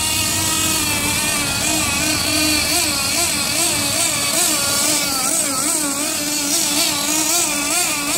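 A gasoline-powered Team Losi TLR LST XXL-2 RC monster truck engine running loud and close at slow speed, with a continuous buzzing drone whose pitch wavers up and down as the throttle varies.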